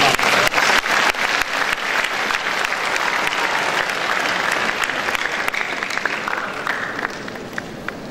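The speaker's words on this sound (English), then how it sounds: "Can you please clap for Lagos?" An audience at a Lagos event breaks into loud, dense applause that stays strong and even, then eases slightly near the end. No voices rise above the clapping.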